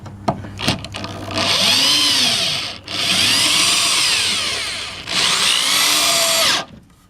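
A power drill tightens fasteners into a wooden raised bed frame in two long, loud whirring runs, with brief taps and a short pause between them.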